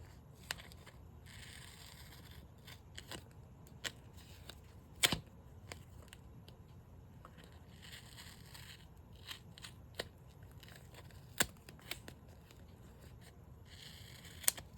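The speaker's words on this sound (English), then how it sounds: "And then we're going to go ahead and cut this." Scissors cut through craft materials such as tape, fabric and lace in a quiet room, with crisp close snips scattered irregularly, some sharper and louder, over a faint background with no talking.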